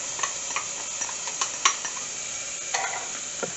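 Garlic, ginger and cumin seeds sizzle steadily in a hot pan, with a few brief stirring scrapes and crackles breaking through the continuous frying hiss.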